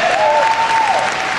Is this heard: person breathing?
no